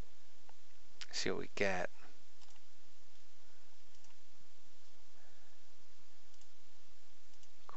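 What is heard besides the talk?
computer mouse clicking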